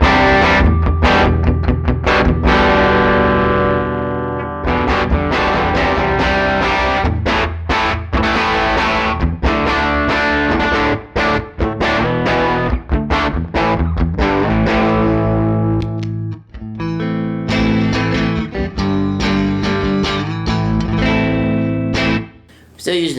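Electric guitar on the bridge pickup through an Axe Fx III Fender Deluxe amp model with slight breakup, strumming dense, ringing chords and riffs continuously with short pauses, loud and close.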